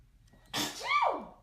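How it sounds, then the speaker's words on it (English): A single loud sneeze bursts out after a brief quiet moment, with a falling vocal tail at the end. "I'm gonna sneeze."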